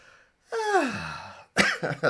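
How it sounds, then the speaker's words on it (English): A close, raspy exhale trails off, then a sharp cough follows with a couple of smaller throaty bursts right after. "Coughing a little bit."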